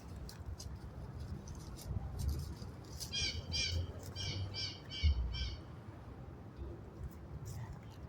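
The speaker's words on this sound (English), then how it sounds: "that's a blue jay" A blue jay gives a series of about five harsh, squawky calls outdoors in nature, fairly faint and distant over steady background noise and wind.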